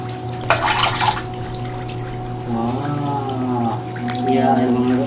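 Tap water runs down in a steady splashing stream, loud and close, while a young child and an adult talk and babble over it.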